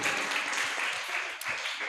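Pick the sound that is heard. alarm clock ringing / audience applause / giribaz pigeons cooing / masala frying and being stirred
audience applause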